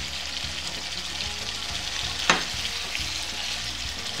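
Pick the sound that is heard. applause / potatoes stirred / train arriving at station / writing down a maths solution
potatoes stirred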